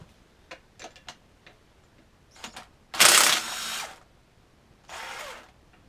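Tools working on a Subaru 5-speed manual transmission during teardown: quick ratchet clicks loosening bolts, followed by a loud buzzing power-tool burst and a second shorter whir, close up with no talk.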